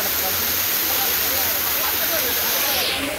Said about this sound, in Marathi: एकदम जोरात पाणी पडते